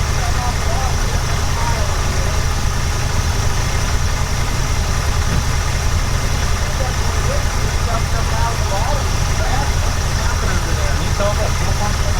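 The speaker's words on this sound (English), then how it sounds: "listen to that motor. It doesn't sound bad now." A worn 1965 Chevrolet junkyard truck engine runs at a steady idle, loud and close, with a constant low rumble and a faint rattly texture throughout while people talk over it.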